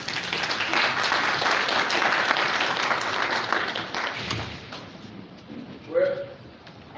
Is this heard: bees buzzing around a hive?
no